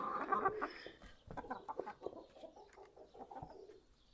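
A rooster in a backyard coop clucks in a quick run of short, faint, close calls, with one louder call at the start.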